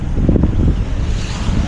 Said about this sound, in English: There's going to be a little bit of wind